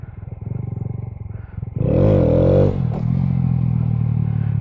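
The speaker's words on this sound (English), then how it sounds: "I'm just going back and forth, popping the clutch and tapping the brake." A motorcycle used for wheelie practice, its rider popping the clutch and tapping the brake: a low, close engine rumble swells into a sharp rev for about a second, then settles back to a steady idle.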